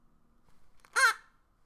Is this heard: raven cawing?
yes